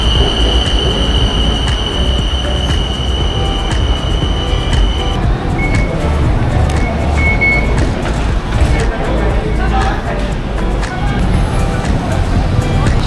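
The Bangkok yellow line monorail running, a loud continuous rumble with wheel squeal and a steady high tone, then short beeps, while people talk over it.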